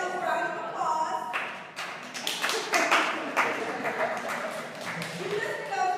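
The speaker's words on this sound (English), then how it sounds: "give yourselves a round of applause" A workshop audience breaks into applause, a burst of scattered hand clapping at close range mixed with chatter and voices talking over it.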